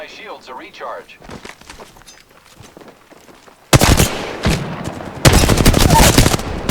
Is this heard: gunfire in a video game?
yes